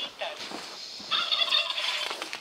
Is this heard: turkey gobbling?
yes